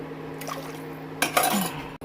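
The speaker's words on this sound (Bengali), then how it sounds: "জলটা দিয়ে দিচ্ছি" Water is poured into a pot with a brief splashing rush that swells and then cuts off, against a faint hum and light clinks of cookware.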